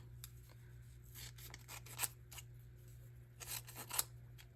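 Scissors snip through glossy magazine paper up close at a quiet level, giving irregular crisp cuts and a few faint rubbing rustles over a steady low room hum.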